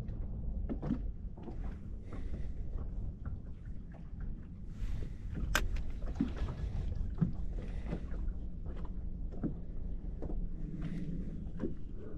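Boat idling slowly over an old submerged railroad track on a lake, a steady low rumble with water sloshing and small knocks throughout, close and continuous.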